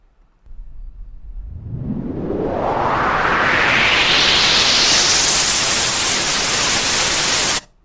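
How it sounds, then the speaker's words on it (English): A white noise riser sample from a music production library sweeps steadily upward from a low rumble to a bright hiss over several seconds, building in loudness and then cutting off abruptly. "some other kind of sound effect that we can pull, what's maybe called like a riser or white noise"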